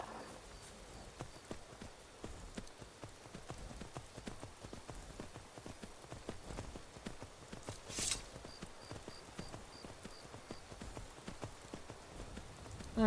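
Horse hooves clip-clop in a steady walking rhythm across ground in Skyrim, moderately near, with a faint rain-like hiss underneath and one brief louder burst midway.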